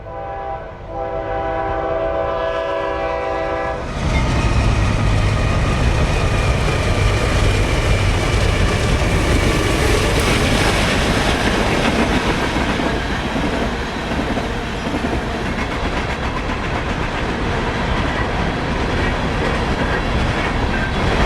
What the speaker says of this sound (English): an empty Detroit Edison hopper train, speeds south.